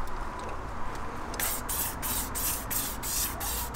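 Spray gun applying clear coat onto wheels outdoors, a steady airy hiss broken by a regular series of short bursts as the trigger pulses, close and fairly loud with no talking.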